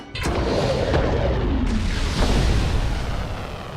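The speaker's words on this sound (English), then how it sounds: "Launch the missile now!" A military missile launches in the animated film The Iron Giant, giving a loud, sustained roaring rush with a sharp boom at the start and a few cracks within the continuous blast.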